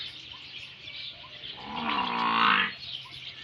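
A single deep, drawn-out low from a buffalo nearby in a farm field, rising and falling over about a second, against quiet background noise.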